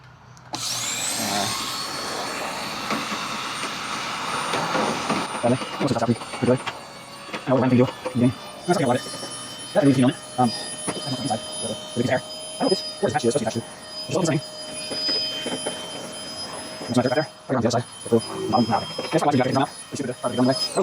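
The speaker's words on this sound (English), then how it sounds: "Got the vacuum out." Vacuum cleaner sucking dust out of a clothes dryer, a steady whine running throughout with bumps and scrapes as the nozzle moves, loud and close.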